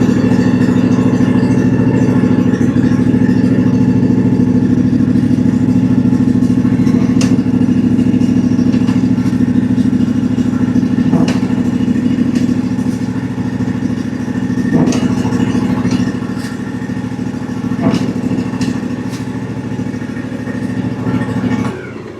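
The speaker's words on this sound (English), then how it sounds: "Let's fire this up and do that and see what happens." A Cub Cadet riding lawn mower engine runs steadily close by, a loud, even, droning idle with light mechanical clatter and occasional small knocks throughout.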